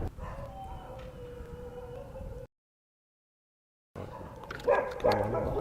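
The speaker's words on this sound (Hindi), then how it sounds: "ये भेड़िया क्या है? इनका गुराना सुना था?" A wolf's growl and drawn-out howl with whining tones, cut by a sudden silence before more restless, rising wolf sounds return close by.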